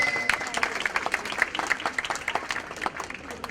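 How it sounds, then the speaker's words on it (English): Audience applause at a golden jubilee celebration at Holy Spirit Hospital, a scattered round of hand claps from a crowd, moderately loud, with a faint sustained tone running beneath the first part. "A big round of applause"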